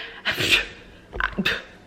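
A pet dog panting indoors at home, two short bursts of quick breathy huffs close to the microphone, fairly quiet with a soft whimpering edge.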